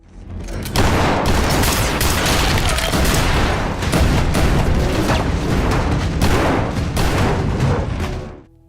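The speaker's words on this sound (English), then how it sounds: "A firefight breaks out across the room." A heavy firefight from Fallout: dense, continuous gunfire and booming blasts start abruptly after a brief lead-in, stay loud and unbroken for about seven seconds, then cut off.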